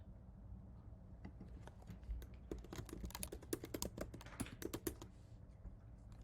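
A git command typed on a computer keyboard, a rapid run of close, faint key clicks that thickens in the middle and then tapers off, alone without talking.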